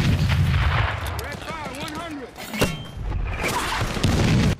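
Gunfire and explosive booms from a World War II battle on Peleliu airfield in The Pacific TV drama, dense and loud throughout, with rumbling blasts and scattered shots, a few whistling tones mid-way.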